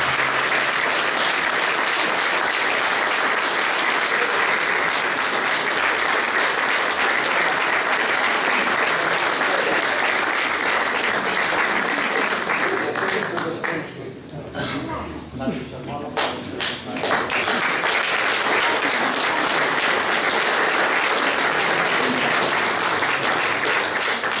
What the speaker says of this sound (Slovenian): Na oder bi povabil trio Drstvenšek, en aplavz, in pa tudi Sara Praznik